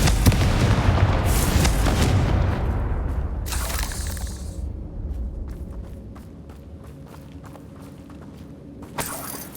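Confringo spell blasts in the video game Hogwarts Legacy, a loud booming burst with heavy low rumble, then a sharp crack midway and scattered lighter impacts trailing off, with another short hit near the end.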